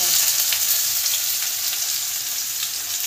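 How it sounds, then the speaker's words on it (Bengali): Chicken pieces hitting hot oil in a kadai wok with bay leaf and dried chilli give a steady, dense, close sizzle that hisses evenly throughout with no voices. "আর এই কড়াইয়ের মধ্যেই মাংসটা দিয়ে দেবো।"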